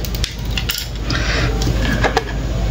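Small AAA batteries are fitted into a Habotest digital multimeter, making a run of sharp hard plastic clicks and clinks, some close and crisp, over a steady low background hum.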